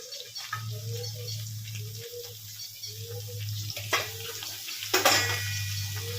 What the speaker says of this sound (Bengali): এবার আমি এর মধ্যে পটলগুলোকে ছেড়ে দিচ্ছি।